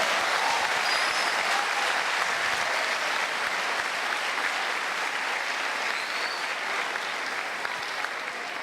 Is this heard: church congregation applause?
yes